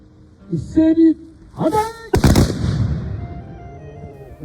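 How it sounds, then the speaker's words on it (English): Japanese matchlock guns fire a full volley at a castle demonstration, a loud sudden blast with a crackling, rolling tail that fades over a couple of seconds, preceded by shouted commands. "A full volley, as you've seen just then, is known as a dairen"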